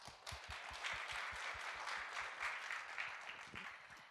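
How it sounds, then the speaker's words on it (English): Audience applause at the opening ceremony of a scientific symposium, a steady wash of many hands clapping at moderate distance, sustained evenly for several seconds. "Let's give Monsieur Berthoud another big round of applause"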